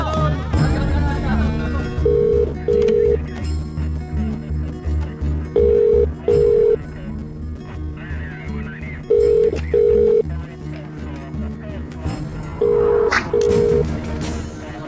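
A telephone number dialed in pairs of short tones, repeated four times, with background music and people talking around the beeps.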